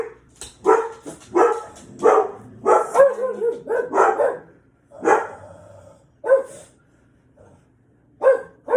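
Several dogs bark in short, loud bursts close by, the yaps coming in irregular clusters with brief pauses between them, and no talking is heard.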